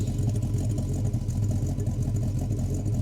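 A Holden HK car engine idles while warming up, a steady low, even rumble with a slight pulsing rhythm, heard close and alone without talk.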